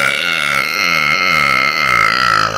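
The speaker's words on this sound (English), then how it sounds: "Oh, salty burp." A long, loud, resonant burp rumbles steadily for over two seconds, close and alone, right after eating a very salty chip.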